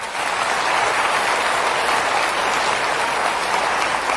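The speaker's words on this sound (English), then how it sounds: "Give them a good clap." A seminar audience at a goal-setting training session claps steadily, a dense, even wash of applause that holds loud and unbroken throughout.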